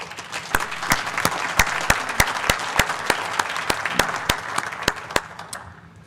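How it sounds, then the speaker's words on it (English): An audience at a chamber of commerce breakfast event applauds its sponsors, dense, sustained clapping from a crowded room with sharp individual claps standing out, fading at the end. "Let's have a round of applause for all of our generous sponsors."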